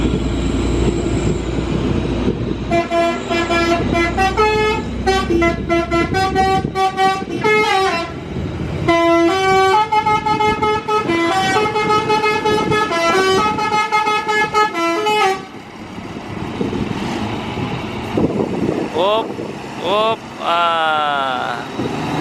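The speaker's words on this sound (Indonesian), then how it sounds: "Dari belakang ada bus pariwisata ya, yang bakal menuju kota Bukit Tinggi sepertinya." Tour buses on a road toward Bukittinggi sound loud, repeated melodic horn tunes in quick runs of rising and falling notes, over steady traffic rumble with a brief pause near the end.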